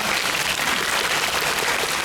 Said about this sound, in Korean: 감독님께도 박수 부탁드릴게요.